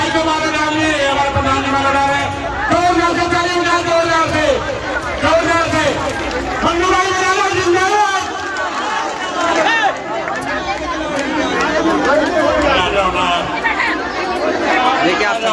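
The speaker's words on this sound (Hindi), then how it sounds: "आप देखिए किस तरह से भीड़ लगी हुई है।" A large village crowd in Khori gathered to welcome Manmohan Bhadana, loud continuous chatter and shouting from many voices close by, with overlapping talk throughout.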